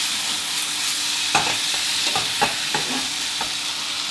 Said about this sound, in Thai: ผัดคลุกเคล้าให้เข้ากันดีเลยครับ